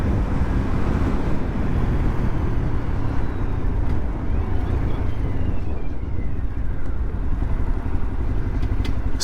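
A Lexmoto LXR 125 motorcycle is ridden at steady speed, its engine drone blended with constant wind rush on the microphone, loud and unbroken throughout.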